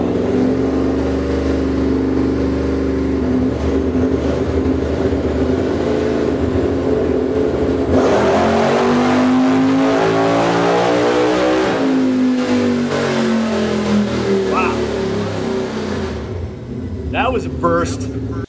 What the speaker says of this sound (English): He's going to get the car rolling. I'll give him the high sign, and then he will go and do a pull.